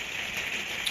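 Rain falling on a conservatory roof, a dense steady hiss of drops, loud and close, alone without talk, very brief.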